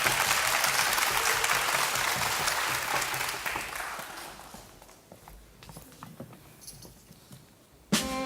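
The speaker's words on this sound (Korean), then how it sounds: "지치지 않는 큰 박수로" Audience applause at a children's composer recital for a young composer's piece, thick clapping that fades out over a few seconds into sparse scattered claps in a quiet hall, followed by a sudden sharp sound at the end.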